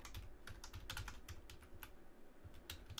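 Fingers tap out irregular bursts of keystrokes on a computer keyboard, close and quiet, with brief pauses between clusters of clicks and no talking.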